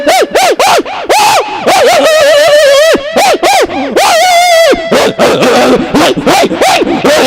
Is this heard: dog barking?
yes